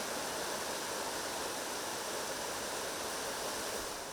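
A contaminated river in Costa Rica flows in a constant, dense rushing roar, steady and fairly close with no pauses and no voices.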